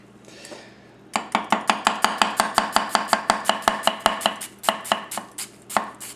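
A Goko 240mm gyuto knife chops on a board in a fast, even run of about twenty crisp, close strikes that later slow and spread out, with no talk.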